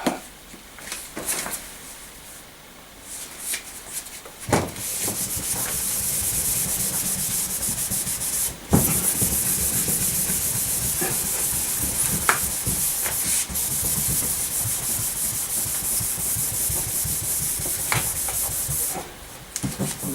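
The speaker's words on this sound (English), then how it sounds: "Again, I need to clean the board." A chalkboard being wiped clean in a lecture room, a continuous rough rubbing and hissing swish that runs for most of the stretch with a few brief knocks and pauses, no talking over it.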